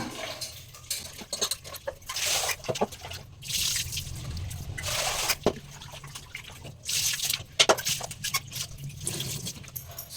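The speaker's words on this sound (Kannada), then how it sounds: "ಚೆನ್ನಾಗಿ ಮಿಕ್ಸ್ ಮಾಡ್ಕೊಂಡು ಚೆನ್ನಾಗಿ 1-2 ಸರಿ ತೊಳ್ಕೊಬಿಡ್ತೀನಿ ಚಿಕನ್ನ." Raw chicken pieces being washed by hand in turmeric water, with wet splashing, dripping and trickling in bursts through the whole stretch at close range, no talking.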